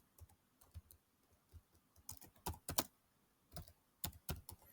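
Quiet keystrokes on a computer keyboard, irregular clusters of clicks with short pauses between them, close and with no talking.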